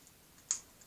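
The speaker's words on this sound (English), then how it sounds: "I'm going to cut out those little areas. That's what makes these little scissors a little easier." Small scissors snip through a plastic transparency while cutting out a stained glass pattern: one crisp, close click alone over a quiet background.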